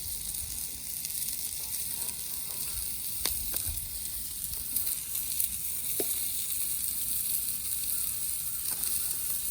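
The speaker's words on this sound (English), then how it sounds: "Potatoes are getting nice and crispy." Potatoes frying crisp on a Blackstone griddle, a continuous steady sizzle with scattered crackles and a few sharp spatula clicks, close and unbroken throughout.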